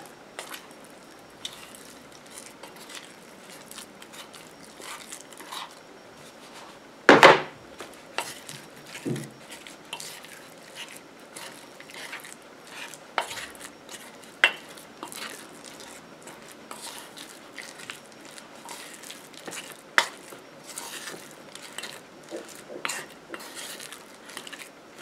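A utensil works a thick solid shampoo paste around a bowl, making scattered light clicks, taps and scrapes with one sharp knock early on, close by and fairly quiet.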